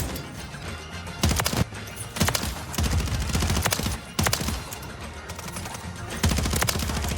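SMG fire in Call of Duty Rebirth comes in several short, loud bursts of rapid shots, with a steady game background between them.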